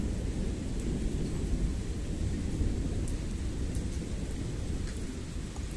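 Heavy rain pours steadily in a severe thunderstorm with hail over Ingolstadt, a dense, even roar of downpour with a low rumbling undertone and occasional sharp drop impacts.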